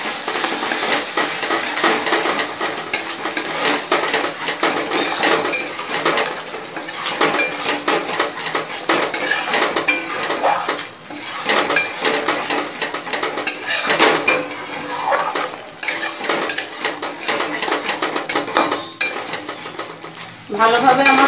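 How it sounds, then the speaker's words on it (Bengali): A metal spoon scrapes and clinks against a pan, stirring a yogurt, sugar and mustard spice mix for prawn curry; busy, close, continuous stirring with a light sizzle underneath and no talk. "এবার ভালো করে মিশিয়ে নেব।"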